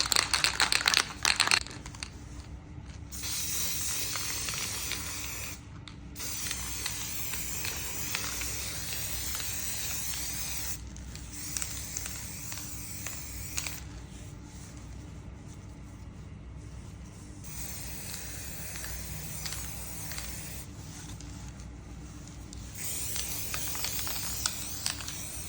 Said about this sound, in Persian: حالا میخوام یه دورم با اسپری دوپلیکالر بزنم که سریع خشکه